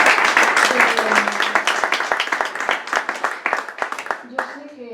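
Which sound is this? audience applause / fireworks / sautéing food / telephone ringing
audience applause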